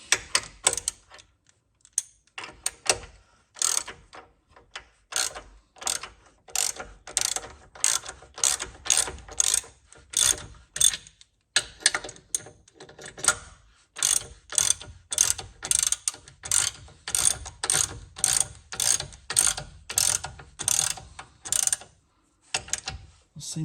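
A ratchet tool pulling a subframe bush into a Volvo V70 P2: close, repeated bursts of rapid pawl clicking in a steady working rhythm, with brief pauses between strokes, going on for over twenty seconds.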